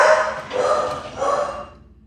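An upset pet dog gives two or three short, muffled barks and yips indoors at moderate distance, with a quiet fade afterward.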